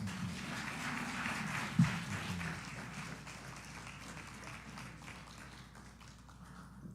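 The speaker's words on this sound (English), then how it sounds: "we would like to give a round of applause to the panelists" Audience applause for panelists at a small business civic engagement event, a modest, steady patter of clapping that slowly fades over several seconds.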